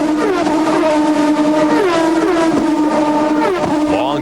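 Onboard a Champ Car racing down a long, very fast straight at Montreal in 2005, its engine holding a loud, sustained high-pitched howl with brief pitch dips at gear changes, close and steady throughout.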